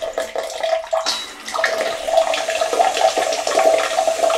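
The first wash of a Japanese automatic-opening bidet toilet seat sprays a hissing jet of water, close and steady, after a brief mechanical start.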